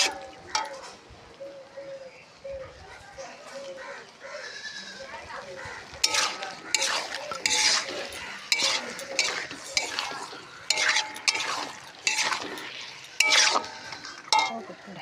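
Meat frying in a pan is stirred with a utensil, the quiet sizzle giving way to a run of sharp, irregular scrapes and knocks against the metal in the second half.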